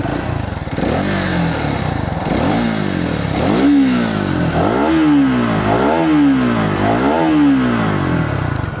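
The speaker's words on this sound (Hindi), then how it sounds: "बाइक को स्टार्ट करते हैं और सबसे पहले इसका एग्जॉस्ट साउंड" A 2026 Triumph Speed 400 (349cc) motorcycle engine revs repeatedly, its exhaust note climbing and falling in about five rising sweeps, loud and close, with no talking.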